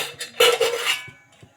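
A spoon scrapes and clinks against a cooking pot while dal is stirred, giving a few short metallic taps and a brief scraping rustle, close and alone.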